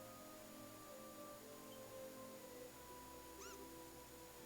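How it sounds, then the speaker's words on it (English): A small squirrel creature in the video game Trails in the Sky gives a faint, high, quick rising squeak, similar to a meow, over quiet background music. "It's a meowing squirrel. Actually, it's a squeaking squirrel."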